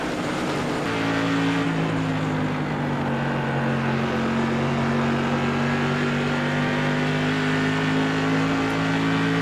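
An SK Modified race car engine in the iRacing game at New Smyrna holds a loud, steady, droning note with a slight pitch drift, continuous and close, with no voices.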